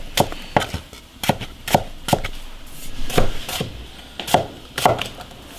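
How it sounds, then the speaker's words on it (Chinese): A knife cuts potatoes into strips on a wooden board, about a dozen crisp chops in an uneven rhythm, close and fairly loud with no talking. "土豆切条条"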